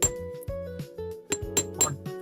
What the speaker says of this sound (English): take your beveled hammer and use the flat side